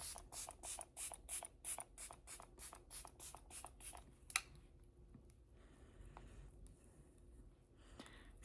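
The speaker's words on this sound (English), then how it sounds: "I'm gonna go in with the setting spray. This is the Tarte one." Tarte setting spray being misted, about a dozen quick hissing spritzes in a fast, even rhythm, close and crisp, followed by quieter rustling.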